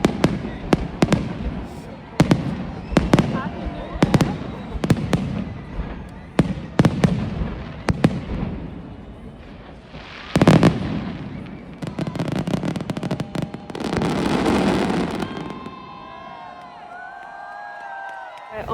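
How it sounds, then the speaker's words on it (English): Fireworks over a crowd in France, heard as a string of sharp, booming bursts with crackling tails spaced a second or two apart, then a denser crackling barrage near the end; people cheer and murmur in the background. "the fireworks should be starting in about an hour from now"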